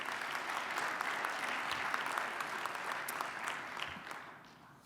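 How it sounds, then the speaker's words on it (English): A conference audience applauds during a science day welcome session, giving steady, dense clapping that holds for several seconds and then tapers off toward the end. "round of applause for him"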